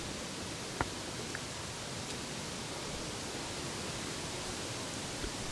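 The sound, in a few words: road noise from BFGoodrich KM3 mud tyres while driving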